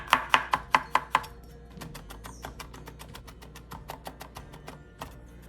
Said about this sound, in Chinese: 20克蒜瓣，清理干净后再剁碎